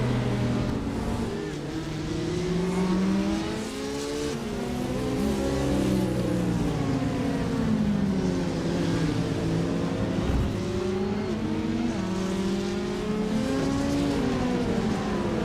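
Race cars in iRacing sweep through the S's at Circuit of the Americas, with GT4 and Porsche 992 traffic nearby, several engines droning and shifting pitch together in a steady, dense, continuous roar.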